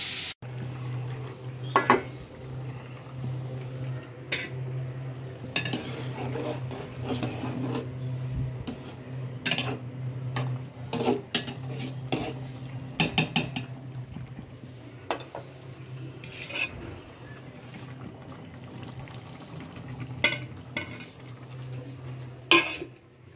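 Spices being stirred into a cauliflower and potato curry in a home kitchen pan after onion, ginger and garlic, with a steady low sizzle under repeated scraping and clinking of a spoon against the pan, close and continuous.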